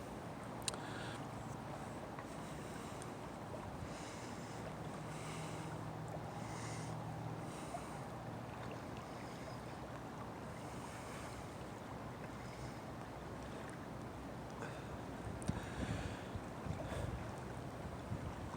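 Outdoors beside the Scioto River in central Ohio, steady wind buffets the microphone over a low, constant wash of water and distant outdoor ambience, with no talking.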